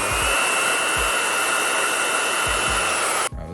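A Babyliss hair dryer runs on its turbo setting with the nozzle removed, giving a loud, steady, close whooshing roar with a high whine, under a few low thumps, before it cuts off abruptly near the end.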